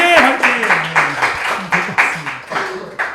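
A youth church congregation breaks into rhythmic clapping and applause, with voices calling out over the claps in time.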